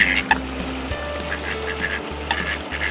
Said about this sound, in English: these two ducks and a coot are like 1 to 2 feet away from us.